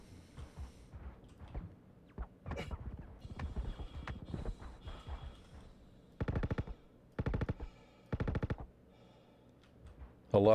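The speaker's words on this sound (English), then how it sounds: "Where'd those bullets come from?" Gunfire in the Star Citizen video game comes as several short bursts of rapid automatic shots, loud against quieter clicks and scattered sounds, with a final burst cut off at the end.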